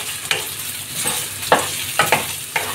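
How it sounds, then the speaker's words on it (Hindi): Chopped potatoes frying with crackled chillies in a hot pan, a dense close sizzle broken by several sharp stirring scrapes of the spatula, with no talk. "इसमें कटा हुआ आलू डालेंगे, आलू को अच्छे से फ्राई करेंगे"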